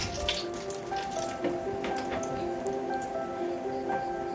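Dried red chilies sizzle and crackle in hot oil in a pan for a Malayalam spicy pepper chicken, a steady close bubbling with scattered pops throughout and no talking.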